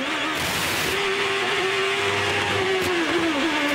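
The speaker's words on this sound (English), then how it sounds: "And now listen to the car. screech and bubble and scream." A 2007 ChampCar race car at Surfers Paradise carries a steady, high engine tone through a corner. The pitch dips slightly near the end under a constant roar of wind and track noise.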